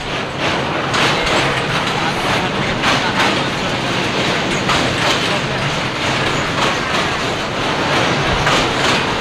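A train rolls along the tracks with loud, continuous rumbling and rhythmic clickety-clack beats repeating throughout, heard from inside or very near the carriage.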